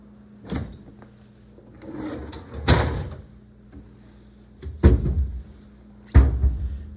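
Cabinets and drawers being opened and shut inside a condo unit, giving several separate wooden thumps and clacks spaced a second or two apart, close by, with no talk.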